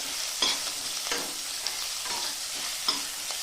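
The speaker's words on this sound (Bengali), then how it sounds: "গাজরগুলো একটু নেড়ে চেড়ে নেব" Chopped carrots and potatoes stirred in an oily pan while cooking spicy semolina, a constant bright sizzle broken by a few short scraping strokes of the spoon, no talk.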